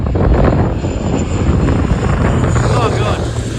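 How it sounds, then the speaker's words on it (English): A small plane flies low into a fairly strong headwind over the coast at Ningaloo, its engine and propeller giving a loud, steady, rumbling drone with a faint whine, mixed with wind noise. "here's our plane"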